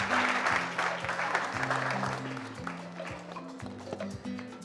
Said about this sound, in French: Applaudissements encore pour elle.